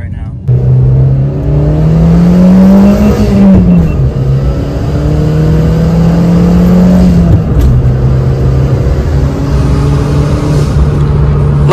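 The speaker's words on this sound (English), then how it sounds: "that's a quick third gear pull" A Suzuki Wagon R engine pulling hard in third gear at around 80 km/h, heard from inside the car as a loud, steady drone that rises in pitch, drops at a shift, then climbs again.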